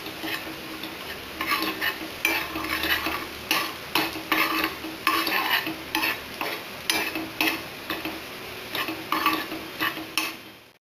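Salt being stirred into frying spice masala for a potato-pea curry, a sizzling pan under rhythmic scraping strokes of a spoon, repeating roughly every half second and fading at the end, without voices.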